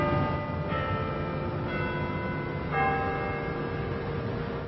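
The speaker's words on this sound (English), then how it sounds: "The bells ring out from Tillman Hall is loud and clear" Church bells ring out from Tillman Hall in several overlapping strikes, each leaving a long, clear, resonant hum that layers over the last, heard fairly clearly over faint background noise.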